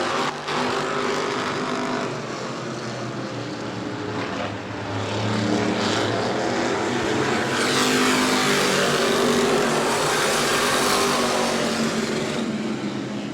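E-Mod race cars at New Smyrna Speedway, loud engines roaring as they race by, with one pack swelling and fading and then another rising to a loud sustained pass before easing off.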